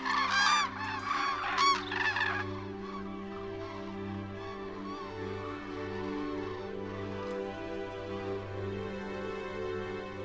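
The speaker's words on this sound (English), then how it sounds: "Hordes of thousands of cranes fly south over the Pyrenees every year" Cranes migrating south over the Pyrenees give loud honking calls in short bursts at the start, then the calls thin out over a steady low droning background.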